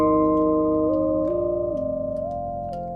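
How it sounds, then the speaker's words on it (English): A sustained bass guitar chord whose tunings shift mid-note, the pitches sliding smoothly up and down between steady held tones, loud and alone with no talking. "I found I really liked the sound of the tunings changing."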